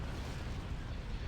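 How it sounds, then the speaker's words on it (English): Hypervelocity cannon firing during a Star Wars space battle video game, a dense continuous roaring blast rumble, loud and heavy in the low end. "Hypervelocity cannon."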